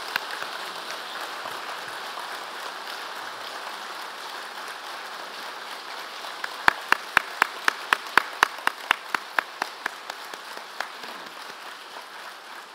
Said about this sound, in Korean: 뜨거운 축하의 박수 보내주시기 바랍니다